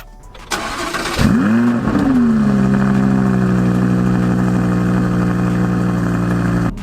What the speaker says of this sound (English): engine start, have a little listen to this